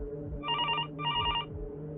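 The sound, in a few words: telephone ringing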